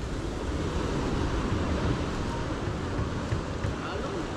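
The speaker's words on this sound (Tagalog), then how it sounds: "Baka okay na nung isang araw eh, kalmado ng dagat. Ngayon nagkakaalo na naman." Choppy sea water churning with broad, steady wave wash and wind buffeting the microphone, a continuous loud roar throughout with no clear breaks.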